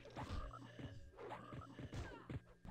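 Frog monsters croak in EverQuest, a run of close, low throaty croaks repeating in an uneven rhythm over busy game background.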